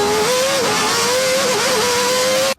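The engine of a McLaren MP4-4 Formula 1 car roars loud and near, holding a steady high whine with slight pitch wobbles before cutting off abruptly at the end.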